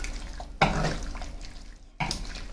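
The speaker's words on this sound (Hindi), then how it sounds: "ये थोड़ा सा पानी इसके अंदर शामिल करेंगे।" Water splashes into a karahi for balti chicken, an abrupt pour that rushes and fades, followed by a second sudden splash, close and moderately loud.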